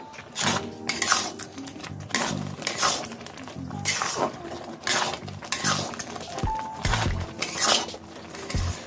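Carrot halwa being stirred in a metal pan, a spoon scraping and clinking against the pan in repeated close strokes, with occasional louder knocks.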